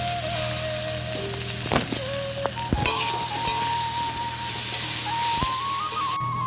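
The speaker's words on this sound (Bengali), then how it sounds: "মাছ ভাজা হয়ে গেছে, এখন আমি তরকারি রান্না করব।" Curry cooking in a pan after fish has been fried, a steady oil sizzle with occasional stirring scrapes and clinks, close and continuous throughout with no talking.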